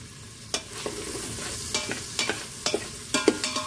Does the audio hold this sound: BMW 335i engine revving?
no